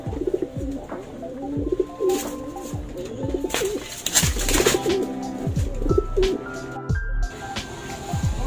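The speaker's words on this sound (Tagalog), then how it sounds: "Papakawalan natin ito mga kalapatids, no?" Several pigeons coo close by in a steady overlapping series of low throaty calls, held just before being let go, with occasional rustling and clunks around them and almost no talk.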